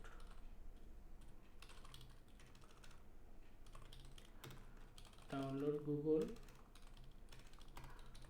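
Quiet rapid tapping on a computer keyboard while a search is typed into a web browser on a Windows 10 desktop, a steady run of light clicks with brief pauses.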